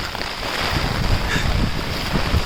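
Strong wind blows steadily across an open hillside, a continuous broadband roar with gusty buffeting on the microphone and a low rumble underneath, with no voices.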